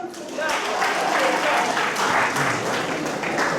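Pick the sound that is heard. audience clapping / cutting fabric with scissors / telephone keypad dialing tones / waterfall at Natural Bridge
audience clapping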